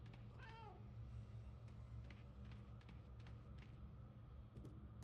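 In the video game Murdered: Soul Suspect, a single cat meow sounds early and fairly close, followed by faint clicks and a low background hum.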